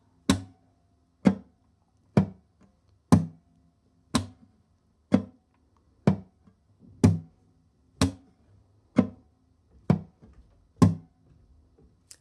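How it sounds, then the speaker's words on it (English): Sharp percussive clicks struck on a nylon-string guitar at a steady, even pace, about one per second, with faint muted low tones between them. "we play a little click with the other fingers"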